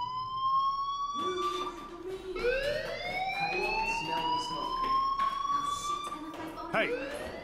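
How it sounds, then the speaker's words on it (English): School fire alarm sounding in the video game Life is Strange, a rising wailing tone that sweeps upward and repeats, steady and fairly loud with brief noisy bursts alongside. "Hey, do you hear that fire alarm?"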